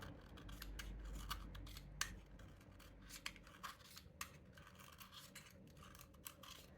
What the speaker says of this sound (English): I just use a knife as well on these charcoal sticks